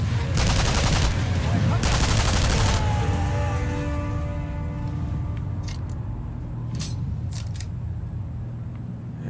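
Gunfire in the video game Sniper Elite 3, set in Africa: a loud dense burst of rapid shots for about three seconds, then ringing echoes fading out with a few sharper isolated reports later.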